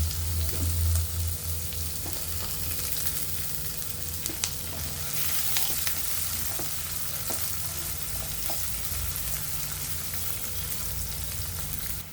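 Chicken liver and head with chopped onion, garlic and bay leaf fry in hot oil, a steady close sizzle with occasional stirring scrapes and clicks running throughout, no voices.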